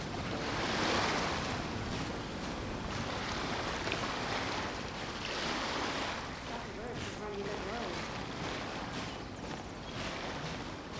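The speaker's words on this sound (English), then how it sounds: "Waves are as calm as always." Calm ocean waves wash softly in a video game, a quiet, rolling surf hiss with gentle surges and faint wind.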